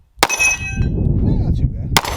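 Two Sig P320 pistol shots ring out as metallic clangs off a steel Texas Star target, spaced well apart, the first followed by lingering ringing and a low rumbling murmur in between.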